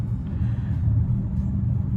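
Turbocharged engine of a 2023 Hyundai Santa Cruz pickup pulling under boost, a steady low rumbling drone from inside the cabin with no talk.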